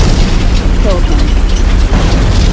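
Loud, rumbling bombing explosions in the War Tycoon video game, a dense sustained roar of blasts heard close, with a voice briefly over it.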